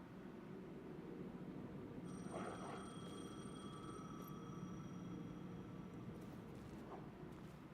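A telephone in Alan Wake 2 rings through a dark, rumbling ambience, a thin electronic tone that starts a couple of seconds in and holds steadily, faint and fairly distant, with no talking.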